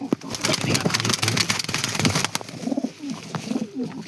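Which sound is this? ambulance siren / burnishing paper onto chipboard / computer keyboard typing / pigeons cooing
pigeons cooing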